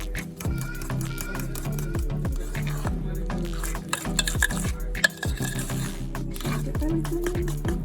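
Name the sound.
mixing cookie dough with butter and eggs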